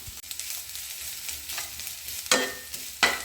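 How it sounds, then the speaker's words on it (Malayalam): Grated coconut is stirred into a banana cutlet mixture in a pan over a faint background sizzle, with intermittent scraping strokes and two louder clattering stirs near the end. "ഇത് നമ്മൾ നന്നായിട്ട് ഇളക്കണം"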